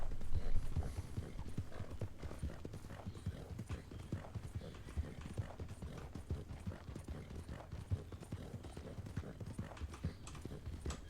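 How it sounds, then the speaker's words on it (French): Horse hooves clip-clop steadily in a video game, a rhythmic trotting pattern of hoofbeats following close behind over a low rumbling background, with a faint whinny. "Il y a un cheval qui nous suit."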